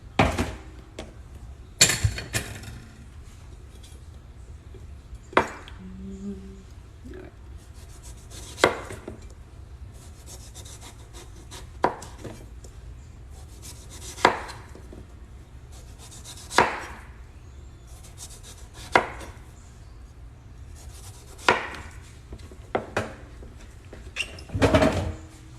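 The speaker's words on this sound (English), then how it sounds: "I'm just gonna slice it like this" A knife slicing through a peeled chayote squash, sharp separate chops striking the cutting board every couple of seconds over a quiet background, close and clear, without talking.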